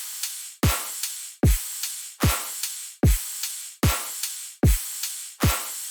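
A riddim drum pattern programmed in FL Studio: kick, clap, ride, hi-hat and crash. Sharp, punchy hits with booming low tails land at a steady pace of about one every 0.8 seconds, with nothing else playing.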